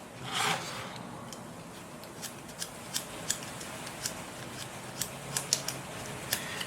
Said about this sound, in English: a little bit of sandpaper. We'll just polish the switch